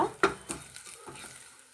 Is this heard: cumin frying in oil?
yes